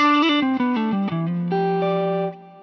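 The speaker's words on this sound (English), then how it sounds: "I think is a beautiful reverb" An electric guitar through a Line 6 POD Go plays a short run of ringing notes with reverb, ending in a held note whose shimmering tail fades out, heard alone and up close.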